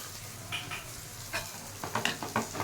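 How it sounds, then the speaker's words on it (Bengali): Dal seasoned with salt and turmeric being stirred in a pan: a soft, even sizzle underlies a run of spoon scrapes and taps that grow quicker and louder toward the end. "এবার একটু নাড়িয়ে চাড়িয়ে নেব।"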